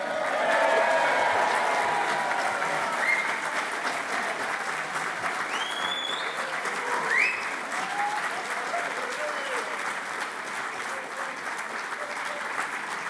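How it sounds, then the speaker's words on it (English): Graduation ceremony crowd in a hall, summer 2026, breaking into loud sustained applause and cheering with scattered whoops, staying steady throughout. "let's all give a big cheer for the graduating class of 2026"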